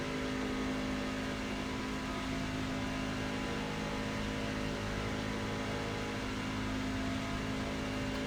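A NASCAR truck engine drones steadily in iRacing at Daytona, a constant, dense mechanical hum with no shifts or pauses and no talking.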